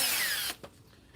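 A power drill with a small bit bores a hole in the muffler shroud of an Echo leaf blower, a loud high whine lasting about half a second before stopping, then a faint knock.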